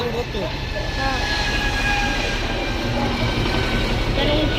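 A train rumbles in nearby with a heavy, continuous roar and faint squealing tones from the wheels, holding steady throughout.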